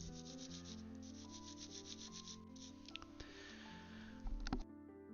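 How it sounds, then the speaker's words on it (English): A Nintendo DS Lite part gets a quick, steady scrub with isopropyl alcohol, giving a soft, continuous rubbing hiss that is faint and close for a few seconds before tapering off amid small clicks. "Just with a little scrub of IPA."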